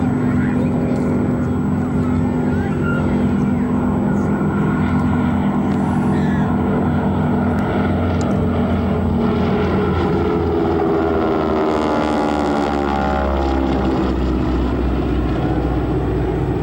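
A Harvard propeller aircraft at an airport air show drones loudly and steadily throughout, its engine roar rising and shifting in pitch as it passes overhead.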